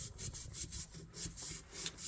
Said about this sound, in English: Get down in there and sand just a little bit.